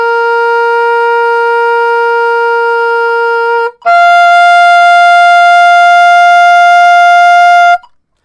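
Sustained soprano saxophone tones played as an overtone exercise with low C fingering and no octave key, two long steady notes of about four seconds each, the second slightly lower, loud and clean with no talking.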